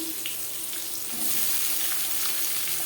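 Chopped onion and bay leaf frying in a little oil for a potato chicken curry, a continuous close sizzle with faint stirring, growing slightly louder midway.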